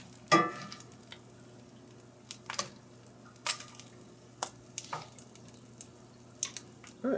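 Trout frying in bacon grease over a camp heat source, with soft steady sizzling broken by scattered sharp pops and spatters, close up and with no voices.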